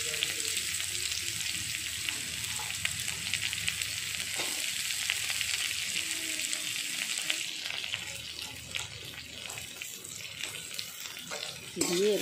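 Chopped onion goes into chillies already frying red in hot oil for a spiced bottle gourd and prawn dish, giving a steady loud sizzle that eases off toward the end, with faint stirring and a brief splash near the close.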